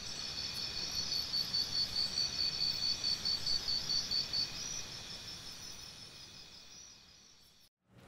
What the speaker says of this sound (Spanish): las chicharras machos emiten unos sonidos muy estridentes